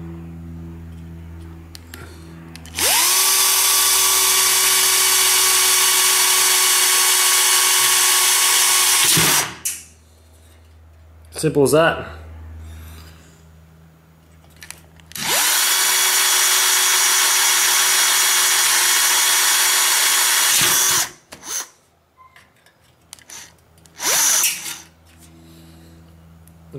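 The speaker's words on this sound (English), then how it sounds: "going to be drilling them out with my trusty power drill" A power drill bores out rivets on a computer case in two long, loud, steady whining runs separated by brief handling noises and a short spoken remark.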